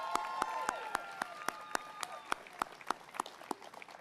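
An audience at the Troy State of the City event applauds Cindy Stewart with a short burst of clapping that thins to scattered individual claps.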